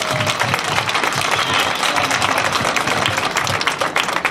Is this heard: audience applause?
yes